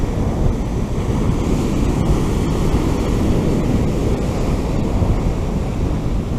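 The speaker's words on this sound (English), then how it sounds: "6 foot bloody waves coming in." Big six-foot waves break and roar continuously onto a Suffolk fishing beach, a loud unbroken wash of surf with heavy wind buffeting the microphone and no voices.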